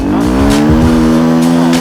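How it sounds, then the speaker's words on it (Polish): A loud motorcycle engine held at high revs with a steady droning whine, close up, as the rear tire spins and grinds against the ground. "Tutaj ja nie przyspieszam, tylko kapeć zaczyna mielić, nie?"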